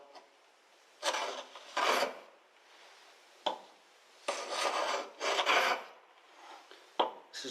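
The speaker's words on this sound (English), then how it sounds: "In planing the lipping down to 3mm, I just pop it in my vise like that" A hand plane shaves wooden lipping held in a bench vise, removing bandsaw marks, producing a series of rasping strokes of varying length, close and clear, separated by short quiet gaps.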